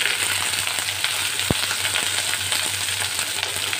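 Eggplant pieces stirred and fried in a pan while making bitter gourd chorchori, a steady close sizzle with occasional scraping knocks of the spoon against the pan and a low hum behind.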